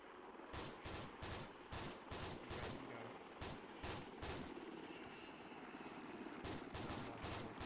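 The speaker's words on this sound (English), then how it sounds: "What the hell are they shooting at?" Gunfire in ArmA 2 pops repeatedly in fairly regular bursts against a steady rumbling background like an engine or aircraft, heard quietly with no talking.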